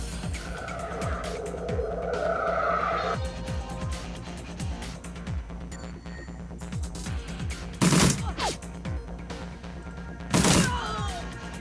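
Rapid bursts of gunfire in the video game Shadowrun Returns crackle over game background sound, with a couple of louder sharp blasts near the end.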